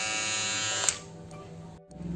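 A Syska HT200U hair and beard trimmer runs with a steady close-up electric buzz that dips and weakens partway through, then returns near the end, with no voices.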